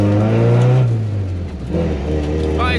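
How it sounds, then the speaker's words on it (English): A Volvo with a straight-pipe exhaust revs hard, a loud, deep engine roar that climbs and then drops away within a few seconds. "they get to hear a straight pipe Volvo at, I don't know, 2 in the afternoon"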